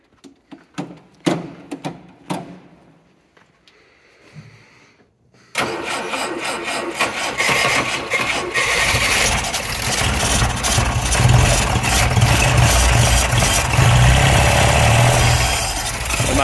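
Volvo 740 car engine started with the choke out: a few faint clicks and cranking, then the engine catches abruptly and settles into a steady, loud idle that runs to the end.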